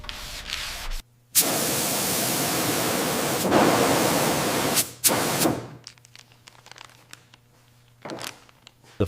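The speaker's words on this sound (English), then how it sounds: "Sanding again. We need absolute perfection for the paint." Steady abrasive sanding of a primed Buick Skylark body being readied for paint, a long continuous scrubbing hiss broken by short pauses and closing with a few brief rubbing strokes, close and loud.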